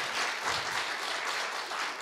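Audience at a university retirement lecture breaks into steady, dense applause, a continuous even wash of many hands clapping for the whole moment.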